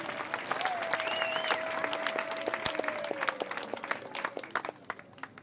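An audience claps for a woman in a lively stretch of applause, scattered hand claps building into a crowd sound, with a sustained tonal whistle or voice over the clapping early on.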